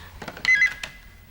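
An indoor telephone in a late-1980s Korean TV drama rings with a brief electronic trill over soft background sound, loudest in a short burst midway.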